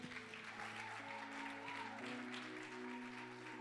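A church congregation applauds in a steady, moderately distant patter, with a sustained musical tone and some voices underneath.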